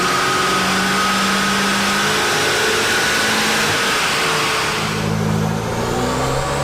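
A car strapped onto a dynamometer rig with rollers revs hard, its engine holding a loud, sustained roar with shifting pitch throughout, easing slightly near the end.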